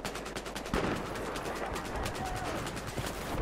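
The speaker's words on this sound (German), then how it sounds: "Okay, das ist ein Mitspieler, der hier schießt." Rapid bursts of gunfire in Battlefield 4 crackle almost continuously for a few seconds, dense and fairly loud, with faint talk underneath.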